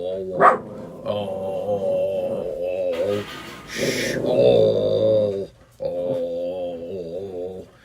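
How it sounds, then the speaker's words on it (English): A dog barks close by in a series of short, loud barks mixed with whining yips, with brief pauses between bursts. "She's the one that's barking."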